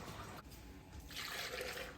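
Water is poured into a pot while cooking in a kitchen, a faint, steady trickle with light splashing that swells toward the end.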